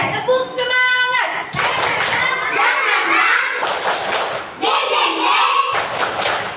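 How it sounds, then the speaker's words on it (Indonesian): A class of first-grade children performs a rhythmic spirit clap chant, sharp group claps landing in quick patterns between loud, sing-song chanted voices, all close and lively. "Kita tepuk semangat dulu."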